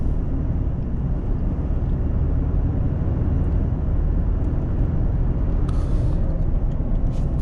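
A Ford Ranger EcoBoost pickup with a loud clutch fan drones steadily from close by, a constant low engine rumble and whooshing fan roar with no talking.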